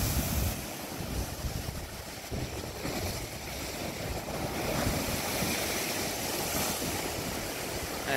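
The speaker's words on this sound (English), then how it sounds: "Man, these waves are hitting pretty hard out here." Heavy Lake Michigan surf pounds the beach in a continuous loud roar of breaking waves, with gusty wind buffeting the microphone throughout and no voices.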